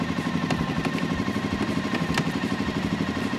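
A 2024 Suzuki KingQuad 750 ATV engine runs in gear, a steady, close mechanical rumble with faint ticking clatter, loud and continuous with no talk over it.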